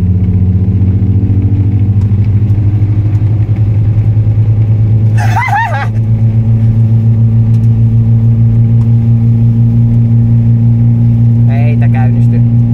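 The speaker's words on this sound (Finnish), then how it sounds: "Kaasu, kaasu, mennään vähän kovempaa." A car engine runs steadily throughout with a low, continuous rumble and slight rises as the driver accelerates, with a brief burst of talk in the cabin midway and near the end.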